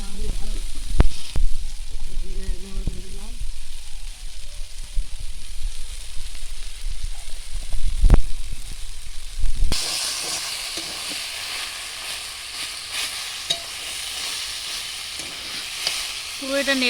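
Taro greens cooking with prawns sizzle in a pan while being stirred, with scraping stir strokes early on and a brighter, steady hiss of frying in the second half, close and moderately loud.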